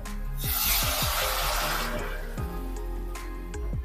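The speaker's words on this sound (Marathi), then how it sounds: "आता आपल्याला यामध्ये चिकनचं जे पाणी होतं ते काढून घ्यायचं आहे" Chicken stock pours and splashes into a vessel, steady and close, with repeated low thumping knocks underneath.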